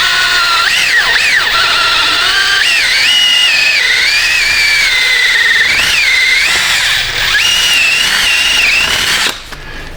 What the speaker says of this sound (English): See if we can't just come right down through there with a drill bit.